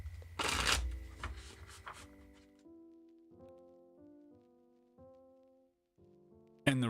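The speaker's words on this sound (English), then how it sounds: "Casino shuffle. Final cut, final shuffle." Tarot cards given a casino shuffle: a loud riffle burst at the start, then soft card taps and slides, with a sharp snap at the end, under a quiet background of sustained musical tones.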